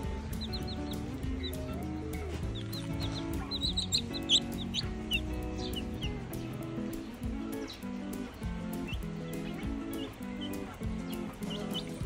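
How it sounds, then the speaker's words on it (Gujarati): Roosters and young chicks on a farm, with steady high cheeping from the chicks and occasional clucks from the larger birds, fairly quiet and close, with no talk. "આપણે ન્યૂ લઈ આવ્યા કુકડાના બચ્ચા. એ પણ આ રહ્યા આપણા બીજા કુકડા મોટા."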